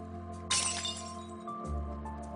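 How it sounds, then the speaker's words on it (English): Window glass smashes in one sudden loud burst of shattering, followed by a short spill of tinkling fragments against a quiet indoor background. "Oh my gosh, the window."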